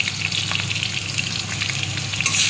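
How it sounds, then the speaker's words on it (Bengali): Potatoes frying in a pan before being cooked into a mutton curry with green papaya. A dense, steady, close sizzle carries throughout and swells louder near the end, with faint stirring underneath. "তো আলুগুলো ভেজে নিয়ে আগে একটু, তারপরে পেঁপেটা ভাজবো।"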